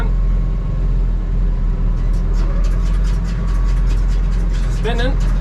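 Tractor PTO engaged at 1000 speed, driving a big square hay baler: a loud, steady low engine and machinery drone throughout, with a brief rising squeal near the end.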